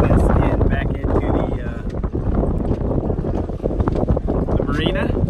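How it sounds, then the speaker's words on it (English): The Micro Tug 9, a small antique-style tug boat, motors into a Geneva Lake marina. Its engine drones loudly and steadily under heavy wind buffeting, with someone talking over it. "Dad's doing a great job of piloting us in back into"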